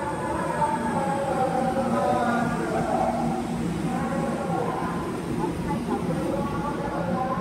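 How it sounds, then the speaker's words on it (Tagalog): A train passing in Guadalupe rumbles by steadily at close range, a continuous roar with rhythmic wheel clatter. "May isang train guys, oh."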